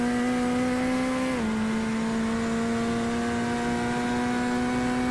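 A Corvette GT3 race car engine in a racing sim holds a steady high rev down a straight, its harmonic drone dipping briefly after a shift and then resuming, loud and continuous with no talk.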